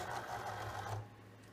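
Cricut cutting machine drawing a cardstock mat into its rollers, heard as a steady close mechanical whir and hum lasting about a second before cutting off into quiet.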